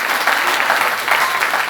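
A church congregation applauding Jesus during a sermon, steady dense clapping from many hands filling the room at a constant moderate level throughout.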